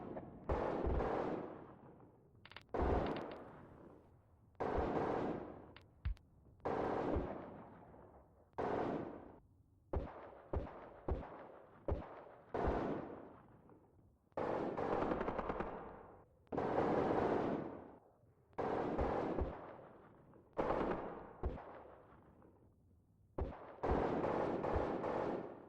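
Battlefield combat in the Graviteam war game: repeated heavy blasts of mortar and gunfire with long rumbling decays, interspersed with quick machine-gun bursts, some near and some farther off, no voices.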